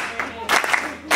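An audience claps flamenco palmas at a comedy concert, sparse rhythmic bursts of hand claps with short gaps between them, fairly close, mixed with a little crowd murmur.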